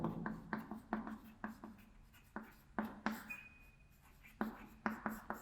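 Chalk or marker tapping and scraping across a classroom board during a Class 11 maths lesson, in quick irregular strokes and taps with short pauses, close and fairly loud, with no talk over it.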